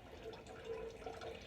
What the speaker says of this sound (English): you put water on the top.